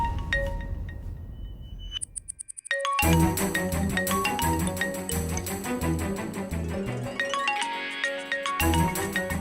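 A telephone rings indoors in a Tamil TV serial scene: a run of bright electronic ringtone chimes that gives way to a louder, busier melodic passage, with no speech.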